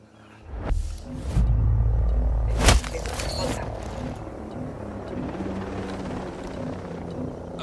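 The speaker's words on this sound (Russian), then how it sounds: "Над нами вертолет противника, осторожно." An enemy helicopter in the video game Ghost Recon Breakpoint roars past overhead in a heavy, loud rumble that swells, peaks with a sharp burst, then fades into a lower background drone.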